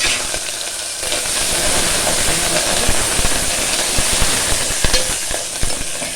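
Curry leaves and green chilies fry in a hot pan with a loud, continuous sizzling hiss that holds steady throughout, close up, with small crackles popping through the spray.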